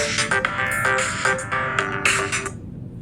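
A mobile phone ringtone plays loud and close, a repeating bright melodic pattern of tones that stops near the end, with no talk over it.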